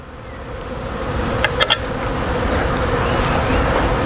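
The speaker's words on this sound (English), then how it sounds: "Still got a lot of bees." Steady insect buzzing fills the background, a dense continuous drone with a few brief louder passes as individual bees fly close.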